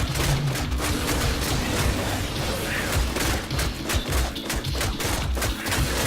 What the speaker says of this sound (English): This is just kind of smacking the enemies.